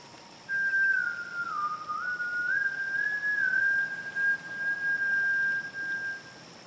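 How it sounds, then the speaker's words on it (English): A soft, eerie whistled tone sounds alone against faint background hiss, holding a single wavering pitch that dips and rises slowly for about six seconds. "A whistle. Soft and playful at first, but as you listen, it turns eerie, unnatural, like something mocking you."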